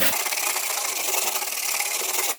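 Dry knockdown texture on drywall being scraped down, a continuous close, rough, hissing scrape lasting a couple of seconds before stopping abruptly.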